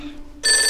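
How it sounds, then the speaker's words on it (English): A telephone bell starts ringing suddenly partway through, loud and steady with a bright sustained trill, following a quieter stretch of soft background tone. "Answer the phone before it wakes up Grandad Tumble."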